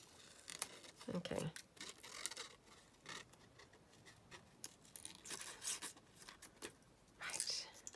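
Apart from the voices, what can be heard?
scissors cutting out a paper paintbrush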